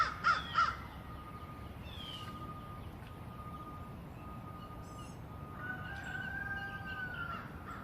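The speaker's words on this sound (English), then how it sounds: "the roosters were hilarious" Faint, distant crowing from fowl: a couple of hoarse calls at the start, then a longer drawn-out crow later, heard over a quiet outdoor background.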